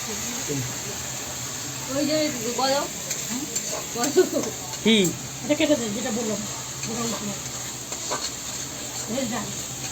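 A spatula stirs dal in a pan with a continuous scraping and sizzling hiss at steady volume, while people chat over it.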